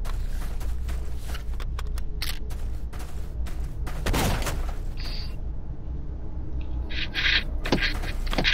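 Gunfire crackles in the online shooter Stalker Online, a run of sharp shots and bursts, some close and loud, with brief quieter gaps between volleys.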